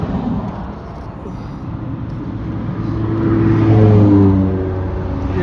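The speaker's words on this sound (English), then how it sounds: "Looks like a busy A road here, look." Traffic on a busy dual carriageway A road, heard from near a campervan, a continuous broad road roar with a vehicle swelling louder as it passes close, then easing.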